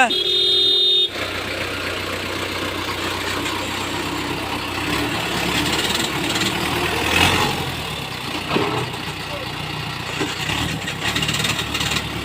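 A vehicle engine hums and rumbles steadily while towing a fallen CNG auto-rickshaw in the rain, with people talking over it and a brief higher tone at the very start.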